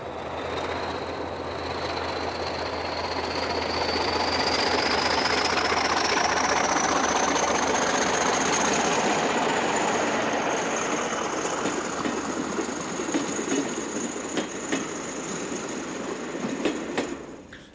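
Train running on a Portuguese railway line, rolling steadily and close by with a rising whine, engine rumble and rhythmic clicking over rail joints, growing louder toward the middle, no voices.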